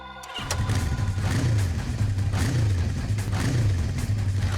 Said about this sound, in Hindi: तो हम तुम्हें कुछ बाइक्स की आवाजें सुनाएंगे